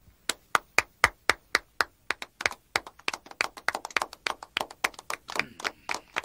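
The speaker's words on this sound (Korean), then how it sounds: "자, 박수로 합시다." A small group claps in a parliamentary meeting setting, beginning with a few sparse, separated claps that quickly build into dense, overlapping applause from several people.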